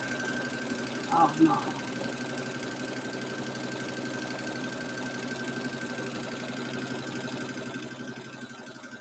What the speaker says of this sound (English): I'm learning to sew on the fast speed.